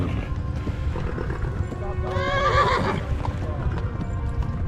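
A winded horse gallops and neighs in Kingdom Come Deliverance, a loud whinny rising over steady hoofbeats and game noise, with a voice talking around it.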